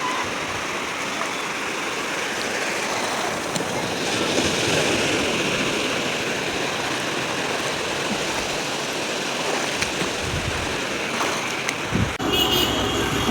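Steady rush of sea waves at Digha beach, a broad continuous wash of surf close by with gusts of wind, lasting throughout with no voices on top.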